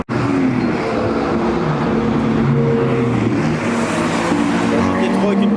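Porsche GT3, GT3 RS and GT2 RS sports cars drive past at a busy gathering, giving a loud, steady engine roar that stays dense and unbroken throughout.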